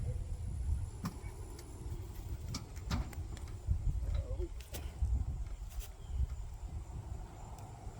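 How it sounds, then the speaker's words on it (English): A vehicle engine runs at a low rumble while backing up, steady and close, with occasional clicks and knocks, under people talking and giving directions outdoors. "Back up a little bit, Niecy."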